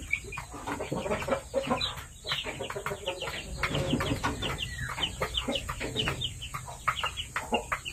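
Young gamefowl chicks cluck and peep busily at close range, a dense run of overlapping calls with a few louder cackles and some wing flutter, no talk.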